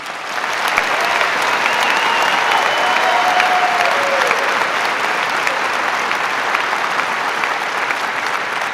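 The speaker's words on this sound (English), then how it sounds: "Let's give these students a round of applause." Large crowd applause at a high school graduation ceremony in a big hall, a sustained dense wash of clapping held at a steady, loud level for several seconds with faint cheers.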